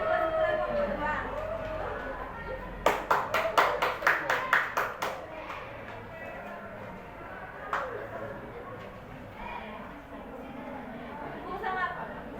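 Students in a classroom give group 2 a short burst of clapping, about a dozen quick, sharp claps over roughly two seconds, with a teacher's voice speaking before and after.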